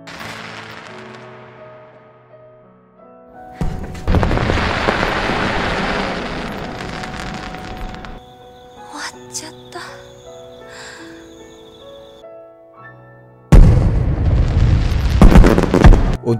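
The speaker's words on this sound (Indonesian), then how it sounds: "Untung saja masih ada kembang api yang tersisa untuk mereka lihat dan nikmati berdua." Fireworks in the film Orange burst in loud crackling, booming volleys in two bursts, with a softer ringing stretch between them and narration running over the sound.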